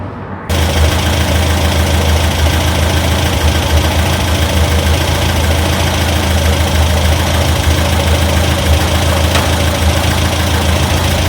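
A Ford Escort MK1 engine idles steadily after its ignition timing was set, a close, continuous low rumble with an even mechanical beat that starts abruptly and holds without interruption.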